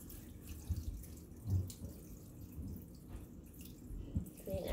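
Water trickles steadily into a cat water fountain, a low continuous running flow with a few soft splashy bumps, close by and otherwise quiet.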